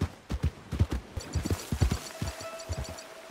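Horse hooves clip-clop steadily in the Red Dead Redemption video game, a rhythmic run of close, fairly loud hoofbeats with a faint whinny-like tone near the end.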